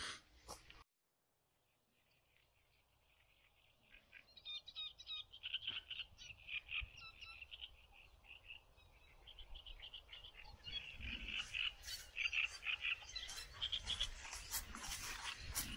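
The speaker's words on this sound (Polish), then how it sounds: "lubię, jak żabki kumkają" Frogs croak in a dense, continuous chorus outdoors along a forest obstacle-course trail near Kozienice, swelling from near silence to a loud, busy rattle with distant birds mixed in.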